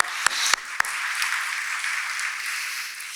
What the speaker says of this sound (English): give yourselves a round of applause for that as well